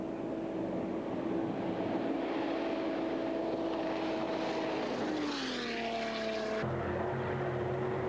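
Jet boat engines roar during a marathon race, a loud sustained whine and drone with shifting pitch that sweeps past. Race commentary is not heard in the sound itself.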